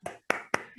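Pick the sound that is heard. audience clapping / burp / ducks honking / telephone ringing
audience clapping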